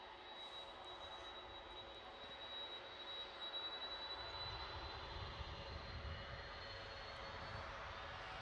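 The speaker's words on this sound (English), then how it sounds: "Right, big Delta on the move." A big Delta jet airliner moves on the ground at Edinburgh Airport, its engine noise a steady broadband roar that swells slightly partway through, heard from a distance with no talking.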